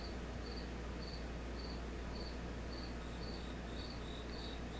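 Crickets chirp in steady, evenly spaced pulses throughout, a continuous insect trill over a constant low hum, with no talking.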